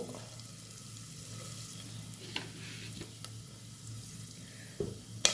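Corn kernels added to hot oil with salt for popcorn sizzle at a steady low level, with a few sharp clinks of a utensil near the end and no talk.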